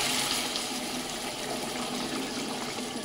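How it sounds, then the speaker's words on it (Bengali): Hot water pours into a pan of fried fish, a steady, even gushing and rushing sound that lasts the whole moment, close by and moderately quiet. "এবার যে গরম জলটা করে রেখেছিলাম সেটাকে দিয়ে দেবো।"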